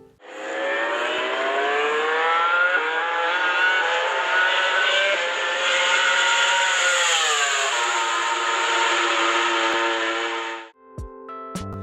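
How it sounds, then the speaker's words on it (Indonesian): A high-revving Yamaha R1 four-cylinder sport motorcycle engine screams steadily, its pitch shifting as the throttle rises and eases, then cuts off abruptly near the end. "Namun kenapa motor Yamaha R1 memiliki suara yang berbeda?"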